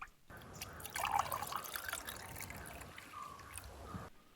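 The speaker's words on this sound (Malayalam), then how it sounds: "വെള്ളം ഇതിന്റെ ഗ്ലാസ്സിൽ ഒഴിക്കാം നമുക്ക്." Well water from a clay-ring-lined well being poured into a glass, a soft, close trickle and splash that swells early then settles into a steady thin stream before stopping, with no talking.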